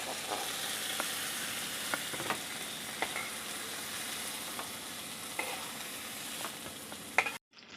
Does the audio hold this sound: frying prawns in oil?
yes